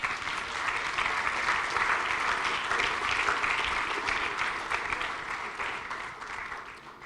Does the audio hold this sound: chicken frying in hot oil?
no